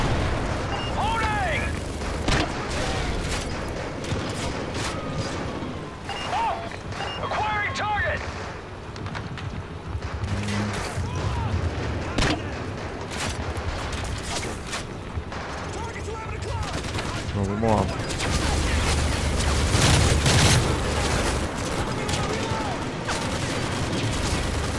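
Repeated bursts of gunfire crack and rattle throughout in Call of Duty Modern Warfare 3, some in rapid volleys, amid explosions and background game noise, with a voice talking intermittently.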